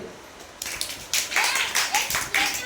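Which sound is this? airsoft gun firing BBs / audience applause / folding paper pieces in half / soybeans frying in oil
audience applause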